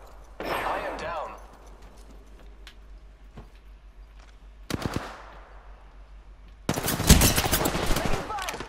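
Bursts of video game gunfire, a short volley early on, another brief burst midway and a loud sustained rattle of automatic fire near the end, with quieter gaps between.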